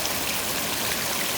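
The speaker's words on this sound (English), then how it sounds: "So there's our waterfall, all working cushy." A small garden pond waterfall spills into its return pond, making a continuous, close splashing rush of falling water with no voices.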